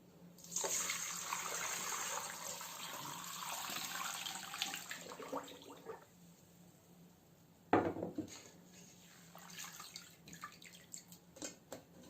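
Liquid being strained while mozzarella cheese is made, a steady splashing pour of whey for several seconds, then a sharp clatter and quieter intermittent trickles and clinks near the end, with no talking.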